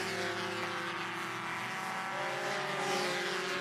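Mazda MX-5 Cup race car, a 180-horsepower machine, spinning donuts at Mid-Ohio Sports Car Course after a race win, engine roaring steadily with continuous loud tyre squeal and no pauses.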